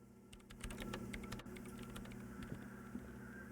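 Quick, irregular keyboard clicks in a video game tapping away over a steady low electrical hum, fairly quiet and close, with no voices.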